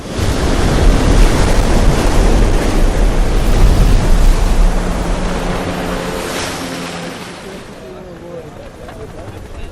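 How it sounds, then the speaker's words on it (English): Big ocean surf at Jaws, the giant wave break off Maui, rumbles in a loud, steady roar that slowly fades, with wind buffeting the microphone and faint voices emerging near the end. "Jaws is one of the biggest waves in the world."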